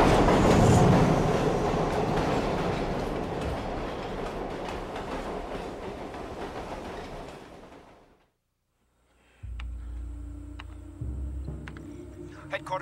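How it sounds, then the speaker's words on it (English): A runaway train roars along the rails in a loud, rushing rumble that fades out, then a different scene follows with lower rumbles and some speech. "That train's a runaway."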